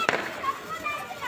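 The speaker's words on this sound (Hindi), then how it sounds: "जब तक मैं इधर इनके पटाखे चलवा रही थी" A single sharp firecracker pop goes off at a household festive celebration for the Karva Chauth puja, followed by faint crackling and hissing in the background.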